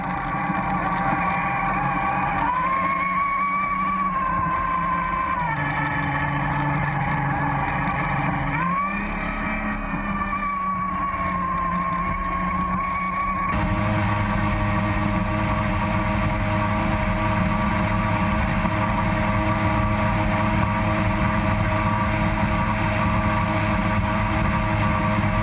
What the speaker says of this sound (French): c'est un moteur Johnson